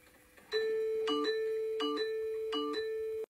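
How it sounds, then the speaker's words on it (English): A doorbell chime rings at night, sounding a clear ding-dong three times in steady succession over a sustained tone, loud and close with no talking. "Ding dong."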